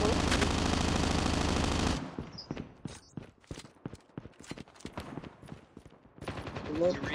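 Rapid gunfire in the COD Mobile video game: a sustained burst of automatic fire, then a stretch of separate sharp shots and short clusters, and louder sustained firing again near the end.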